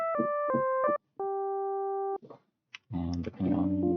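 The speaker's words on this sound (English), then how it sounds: "That's just a sine wave." Pure sine wave tones from an M8 FM synth: a few short clipped notes, then one sustained steady note lasting about a second, followed by clicks and a voice talking.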